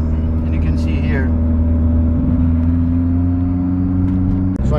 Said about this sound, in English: So I'm driving around carefully, monitoring what's happening.